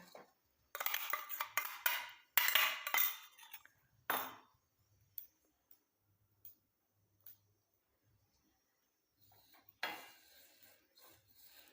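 Black cumin and spices dry-roasted in a pan on low heat, scraped by a spoon in several rough, rasping bursts with quiet gaps and faint ticks between, close up.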